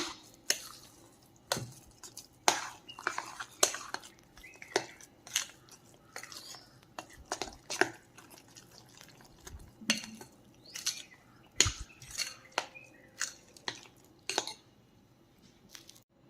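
Breakfast batter stirred in a bowl, giving repeated wet squishing scrapes and soft clinks of a spoon against the dish, steady and close throughout, with no one talking.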